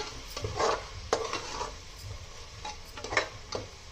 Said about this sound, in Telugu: ఇప్పుడు దీనిలోనే మనం స్లైసుల్లో కట్ చేసుకున్న టమాటా ముక్కల్ని దీంట్లో వేసేస్తున్నాను.